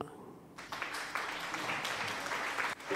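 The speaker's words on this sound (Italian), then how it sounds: "Vai, applausi, regia." Studio audience applause at a broadcast cue, a steady wash of clapping that swells after a quiet start and holds at a fairly loud level for most of the stretch.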